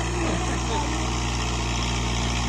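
Kubota tractor engine pulling a loaded trolley, a steady low droning rumble close by that holds without a break throughout.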